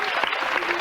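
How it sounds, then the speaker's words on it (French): Brief burst of studio audience applause on a 1992 French TF1 children's television show, a dense steady patter of clapping lasting under a second. "On va l'applaudir."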